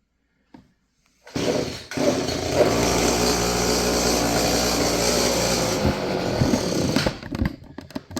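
A vintage Stihl FS56 curved-shaft string trimmer, about 30 years old with a gummed carburetor and sticking throttle cable, sputters and catches after a few seconds, then runs steadily and loudly up close before cutting off.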